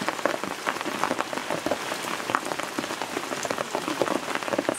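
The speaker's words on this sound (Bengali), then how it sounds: "প্রচন্ড বৃষ্টি নামেছে" Heavy rain pours down in a steady, dense roar of drops striking surfaces nearby, unbroken throughout with no voices.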